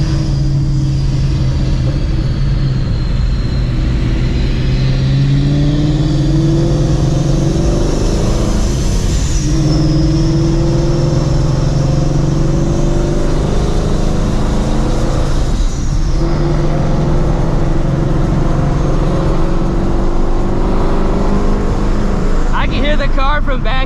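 A 700-horsepower Procharged Ford Shelby GT350 at a race event roars and revs loudly nearby, its engine tone rising and falling with supercharger whine, while people talk over it.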